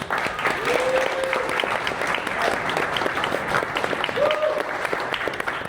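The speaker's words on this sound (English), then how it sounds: "So give them a round of applause." Audience applause during a group session, a continuous, moderately loud sheet of clapping that holds steady, with a couple of brief whoops or voices rising over it.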